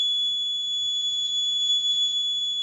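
An electronic buzzer on a sensor and actuator circuit sounds one continuous high-pitched tone, steady and unbroken, alone against faint background noise.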